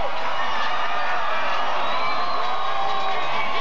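A stadium crowd at a 1997 Canadian football championship game roars and cheers continuously, loud and dense with whoops and shouts blending into a sustained wall of noise.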